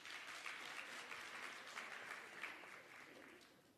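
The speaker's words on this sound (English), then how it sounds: "Can everybody please give Swakopmund a huge round of applause?" An audience at a youth tourism innovation summit in Africa claps in a steady, continuous round of applause. It sounds fairly distant and soft, with no speech over it.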